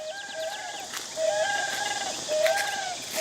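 A giant ibis calls in the Cambodian wild, giving repeated loud, honking cries in a series of bursts over steady background ambience.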